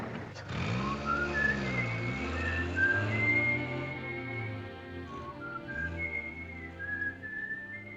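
A person whistles a lilting tune in a 1944 film scene, the bright melody clear and fairly close, sliding between held notes over a low hum of background music, with no talk.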